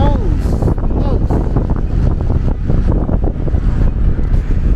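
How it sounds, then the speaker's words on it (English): Strong wind buffeting an outdoor microphone during a Traxxas Rustler 4x4 VXL RC truck bash session, a loud continuous roaring rush with gusty fluctuations filling the whole stretch. "That's just the wind, guys."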